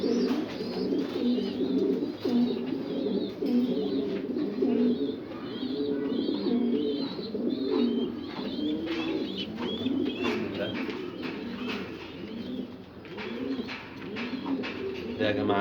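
Pigeons coo continuously and close by as they are handled and placed one at a time into a wire cage, their layered cooing steady throughout, with faint chirps above.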